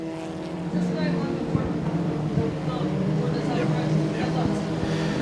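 Compact race cars roar around the Moler Raceway oval in a King of Compacts feature, a steady loud engine drone holding through the whole stretch while an announcer talks over it.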